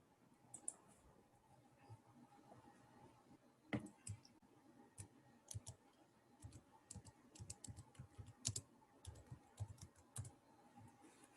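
Rapid clicking of a computer keyboard as a web search is typed, irregular bursts of keystrokes close by with a few louder taps, no voices.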